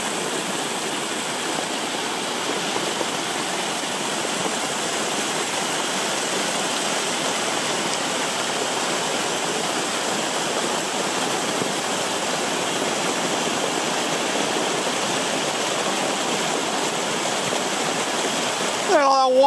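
A spring-fed waterfall pours straight out of a hillside, producing a loud, steady, close rushing roar of water that continues unbroken throughout.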